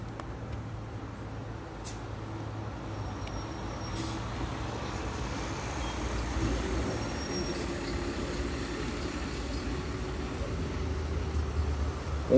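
Trucks and buses hum past on a road near the Delaware River crossing, a continuous low drone of engines with a few brief hissing air brakes.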